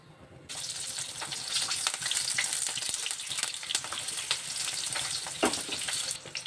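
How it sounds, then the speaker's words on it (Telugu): Green chillies fry in hot oil for Hyderabadi mirchi ka salan, giving a steady, close crackling sizzle that begins abruptly after a brief quiet moment and carries on with occasional sharper pops and stirring clatter. "నూనె పోసుకుందామండి. మిర్చి వేసుకొని ఫ్రై చేసుకుందాము."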